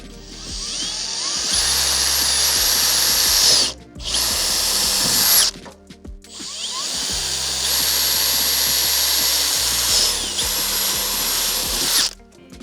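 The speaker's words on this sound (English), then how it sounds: "Carefully drill the plastic using an 8mm drill bit" A power drill with an 8mm bit whines loudly through plastic in two long bursts, briefly pausing and revving down between them, with the pitch dropping as it bites.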